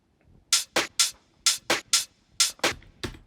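Tech house drum loop built in Ableton: a string of crisp, bright percussive hits in a syncopated pattern, each short with a quick tail, loud and alone with no voice.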